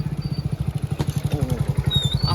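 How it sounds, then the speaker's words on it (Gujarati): A motorcycle runs close by with a rapid, even, thumping engine pulse that holds steady throughout, loud and alone with no talk. "આ પુષ્પા ભાવનું બાઇક છે"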